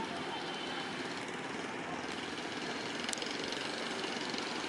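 A long-tail boat engine runs steadily on a river, giving a faint, continuous droning hum heard from some distance with no talking.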